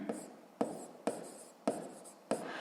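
A pen scratches out numbers in a notebook, five short strokes spaced roughly half a second apart, quiet and close with no voices.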